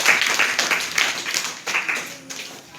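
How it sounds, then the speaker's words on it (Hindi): A classroom of students claps loudly in a burst of applause, the dense patter fading over a few seconds with a few scattered claps trailing off, and no voices heard. "वेरी गुड, जोरदार तालियां।"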